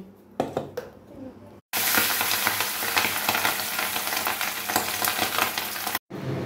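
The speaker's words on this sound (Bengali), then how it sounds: "প্রথমে মাছটা ভেজে নেব।" Loud, steady sizzling of hilsa fish frying in hot oil for biryani, starting after a few knocks and continuing with crackles, briefly cut off near the end.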